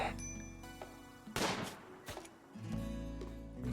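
Gunshots in the colony-management game RimWorld, a couple of sharp cracks with a burst of noise in the middle, quiet and set against a steady tonal game music bed.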